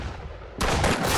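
Loud rapid gunfire erupts suddenly in the Roblox shooter game Arsenal, a dense burst of shots that continues to the end after a short stretch of quieter game background.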